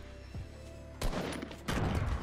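Gunfire in the Fortnite Battle Royale video game, two short bursts of rapid shots a moment apart, moderately loud over faint game ambience.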